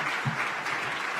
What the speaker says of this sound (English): now let's give a round of applause to our candidates.